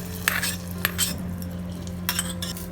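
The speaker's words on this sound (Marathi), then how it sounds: "आता हा तडका सांबारमध्ये टाकूया." Tempering with red chillies is poured into sambar and stirred in, a metal spoon clinking against the pot several times in short, close taps over a steady hum.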